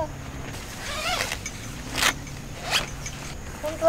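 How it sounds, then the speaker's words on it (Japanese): A zipper on an Ogawa tent is pulled open in several short, rasping bursts with small pauses between them, close and fairly loud. "本当はチャック上まで開けなきゃ。"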